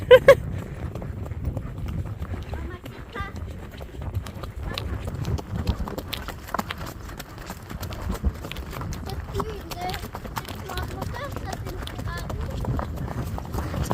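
A horse's hooves clip-clop steadily over ground on a trail ride to a lake, amid constant rustling and brushing of branches, with voices talking throughout.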